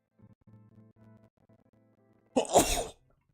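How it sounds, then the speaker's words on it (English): One sharp, loud sneeze bursts out close by after a stretch of soft, faint tones. "I had a sneeze"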